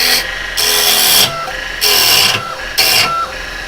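A woodturning lathe takes heavy cuts in soft wood, with loud bursts of coarse, hissing scraping as the tool bites in, three pulses separated by quieter spinning between passes.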